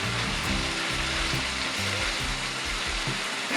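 Chinese broccoli leaves stir-fried with pork belly in a hot pan give off a loud, steady sizzle, with continuous crackling and spattering and no voices over it.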